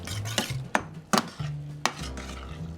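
Heavy cream is stirred into beef stroganoff in a pan, with a spoon clinking and scraping against the metal in several sharp knocks over a low wet churn, close and without talk.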